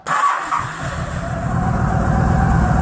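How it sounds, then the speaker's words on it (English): A Yamaha V Star 1300 motorcycle cranks and catches right away, then settles into a loud, steady low-pitched idle with a pulsing rumble, heard up close. "Turn the bike on."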